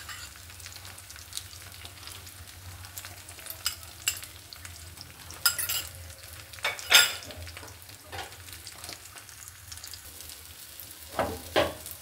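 Beaten egg sizzling softly in a pan for a breakfast dish, a faint continuous frying hiss broken by occasional spatula scrapes and a few sharper pops, no talk.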